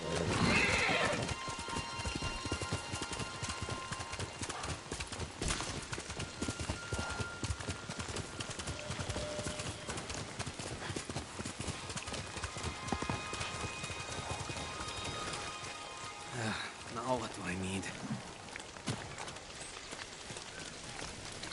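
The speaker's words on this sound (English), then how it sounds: "Horse!" Horse in the Ghost of Tsushima video game: rapid clip-clop of hooves running, then a distinct neigh, with faint ambient sound beneath.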